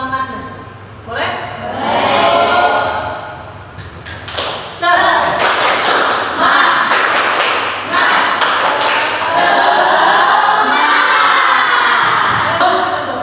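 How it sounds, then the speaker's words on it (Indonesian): Classroom of elementary pupils doing a rhythmic clapping spirit cheer, thumping claps and desk taps in quick patterned bursts mixed with loud chanting and shouting children's voices, close and energetic. "Saya minta tepuk semangatnya."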